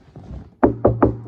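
Three firm knocks on a wooden surface, evenly spaced and close, following a moment of low background noise.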